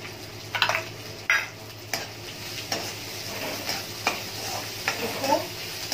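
Onions frying in a pan for Indian-style masala macaroni pasta, a soft steady sizzle punctuated by a series of spatula scrapes and stirs at irregular intervals, close by and without speech.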